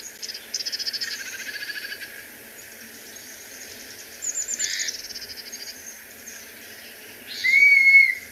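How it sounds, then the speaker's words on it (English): A recorded call of a dusky-capped flycatcher from southeastern Arizona, birded in May: one clear, plaintive whistle near the end, after softer bird and insect chatter in the background. "So I'm gonna play a quick sound, the song of the dusky cap,"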